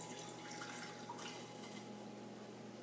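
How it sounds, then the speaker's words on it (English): Filtered cold water poured over ice cubes while making hummingbird nectar at home, a faint continuous splashing trickle with steady faucet-like flow and no talking. "fill it with filtered cold water"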